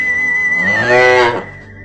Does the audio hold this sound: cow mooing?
yes